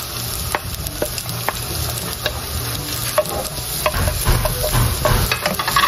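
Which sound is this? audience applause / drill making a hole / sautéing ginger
sautéing ginger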